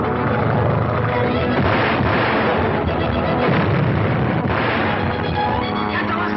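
Grenade explosions in a battle scene from the film The Amazing Transparent Man, a dense, continuous barrage of booming blasts and rumbling bursts overlapping one another at full loudness.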